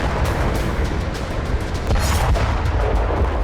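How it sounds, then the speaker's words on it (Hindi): An Israeli missile strike hits a building in Sidon, Lebanon, a loud, dense rumble of blast and crackling debris rolling on continuously, with sharper bursts mixed through the roar. "ये मिसाइल सीधी एक इमारत से जा टकराई"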